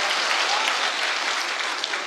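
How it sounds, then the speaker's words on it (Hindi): Applause from an audience at an Urdu poetry recital, a dense, loud, steady clapping that fills the whole stretch without pause. "आप लोग अगर तालियां बजा रहे हैं तो मिलके बजाते हैं"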